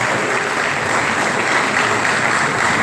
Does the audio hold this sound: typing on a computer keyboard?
no